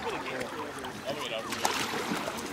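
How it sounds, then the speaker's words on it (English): Water splashes and swishes as a paddle strokes through it from an Eddyline Caribbean 10 kayak, with a steady wash of outdoor noise and faint voices in the background. "I'm gonna take it for a little paddle"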